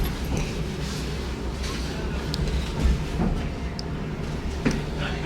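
Train pulling into Great Yarmouth station, where the service terminates; a steady, loud low rumble of the carriage running continuously, with faint brief clunks and rattles on top.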